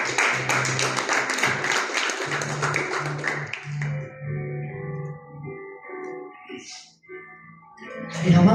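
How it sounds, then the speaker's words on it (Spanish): Church congregation clapping during a sermon service, rhythmic claps over a low hum for a few seconds before fading into quieter tonal sound and a brief rustle. "Denle un fuerte aplauso al Señor Jesús."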